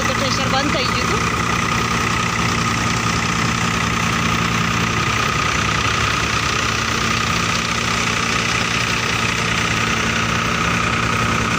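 A wheat thresher driven by a tractor engine runs continuously, giving a loud, steady, rumbling mechanical drone with a rough, knocking texture that holds at the same level throughout.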